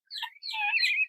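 Young guinea fowl keets chirp on a farm in a few high, thin calls: a short burst, a brief pause, then a longer, sustained run of close chirping with no other sound.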